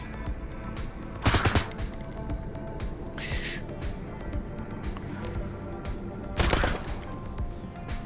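Gunfire aimed at rats in the video game Shadowrun Hong Kong, with two loud bursts of rapid shots standing out over a steady ambient game background, no voices.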